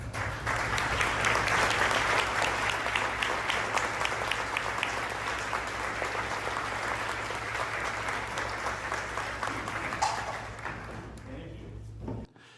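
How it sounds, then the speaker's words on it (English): Dense, sustained applause from a large audience at an annual association meeting, loud and even for about ten seconds before tapering off with a low hum underneath. "can we all give them a round of applause?"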